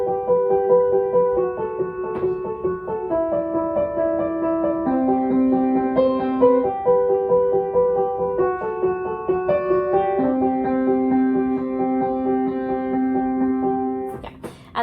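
Piano plays the intro to a song with the sustain pedal down, a steady sequence of held chords and melody notes ringing into each other for about fifteen seconds before stopping.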